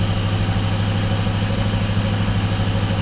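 A Cadillac engine on its first start with an Aces fuel injection setup idles steadily at about 1400 RPM, a loud, close, continuous rumble with an even low throb and no talking.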